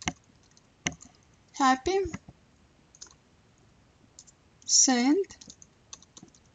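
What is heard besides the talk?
typing on a computer keyboard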